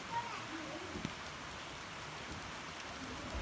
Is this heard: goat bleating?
no